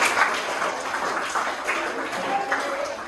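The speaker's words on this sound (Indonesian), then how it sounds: "Oke, tepuk tangan." A classroom of students claps together in a brief burst of dense, uneven handclaps, close and moderately loud, with voices mixed in.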